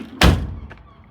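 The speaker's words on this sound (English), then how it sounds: "If all has gone to plan, we should be able to slam this door now" A refurbished door on a Mercedes R107 swings shut with one solid, loud thunk close by, followed by a faint latch click as the sound dies away.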